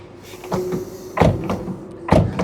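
Car doors on a 2014 Kia Rio 1.4 CRDi diesel hatchback shut with a few solid thuds and latch clunks, close and fairly loud over a steady low hum.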